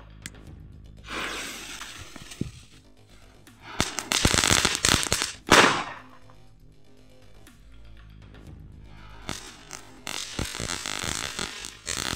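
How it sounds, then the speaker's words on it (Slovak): A firecracker is set off with other pyrotechnics, bursting into loud, sharp crackling blasts midway and again near the end, separated by quieter stretches. "Potom ako kde tu máme takúto petardu."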